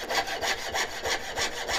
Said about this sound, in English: One, I get to saw. I like sawing.